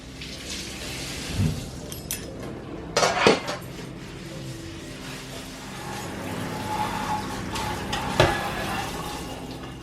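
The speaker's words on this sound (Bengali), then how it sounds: "আমি ভাবছি যে কিচেনের এগুলো আমি একটু আগে ধুয়ে দিই" Kitchen utensils being washed at a sink: scattered clinks of dishes, pots and cutlery with a few louder clatters, over a soft steady background of running tap water.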